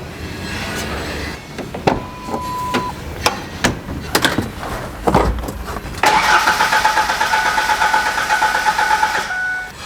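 A truck engine cranks over repeatedly with a rhythmic starter churn, then a steady, louder mechanical whir takes over and keeps going.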